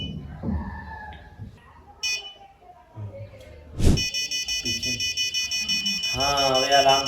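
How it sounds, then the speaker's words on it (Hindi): A homemade smart alarm built into a dumbbell starts beeping in a steady, rapid electronic pulse that keeps going and grows slightly louder, after a sharp click and some earlier speech and faint sounds. "हाँ, अभी अलार्म बजने लगा है।"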